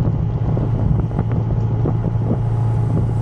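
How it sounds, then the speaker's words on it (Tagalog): Strong wind roars and buffets constantly while riding a Benelli Imperiale 400 motorcycle on the North Luzon Expressway, a loud dense rumble that continues without a break. "Grabe yung lakas pala ng hangin dito."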